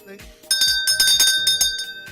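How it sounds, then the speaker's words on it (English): A bright bell rings with repeated clear strikes, sustained tones ringing on, close by, with a voice speaking faintly underneath. "See, there's the bell."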